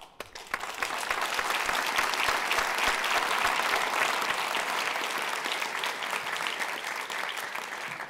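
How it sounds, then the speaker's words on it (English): Audience applause during a keynote address on human rights starts after a brief hush, then swells into sustained, even clapping from a large room that continues to the end without any speech. "I believe we should all applaud your work"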